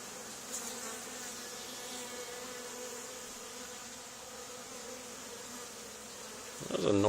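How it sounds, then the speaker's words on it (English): Honey bees drone steadily around a swarm being removed from an old barn, a dense continuous buzz at even loudness with a brief louder rustle near the end. "That was a noisy drone"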